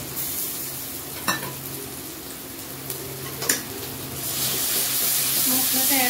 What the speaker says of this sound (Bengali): এইবার আমি এর মধ্যে মশলাটা অ্যাড করে দিচ্ছি।